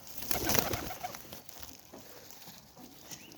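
Pigeons for sale in Margilan give a few soft coos near the start amid loft rustling and light patter, the calls fading under a muffled, noisy background.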